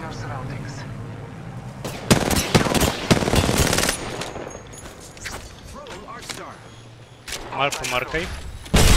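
Grenade blasts and heavy automatic gunfire in an online shooter duos match, loud sharp bursts in several clusters with booming impacts, while players talk excitedly over the action.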